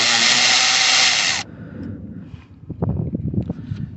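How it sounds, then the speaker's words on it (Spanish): A power tool whirs loudly for about a second and a half while removing the bolt that holds the steering wheel on a 1999 Chevy Silverado 5.3, then stops, followed by scattered metallic clinks and handling noises. "vamos a quitar el tornillo que está agarrando el volante"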